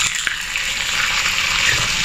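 Steady hissing sizzle of chicken frying in a hot pan with sesame oil, with a few soft pops and stirring sounds, close and continuous.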